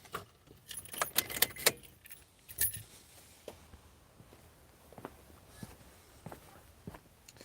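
A car's engine is switched off during a windshield washer repair, followed by a close, bright jangle of keys in a few quick bursts, then scattered faint taps and footstep-like knocks.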